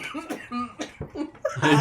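A person coughs in short bursts, with a louder rough burst near the end, while voices and laughter come and go around it.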